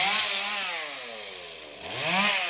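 A chainsaw cutting a tall coconut tree stump runs loud and close, its engine pitch sagging under load and then rising again as it revs back up.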